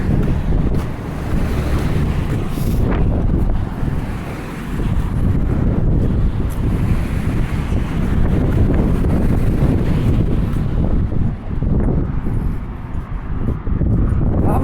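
Gusting wind hammers the microphone on the Macdonald Bridge, a loud, rough, unbroken roar that swells and dips slightly, with no voices.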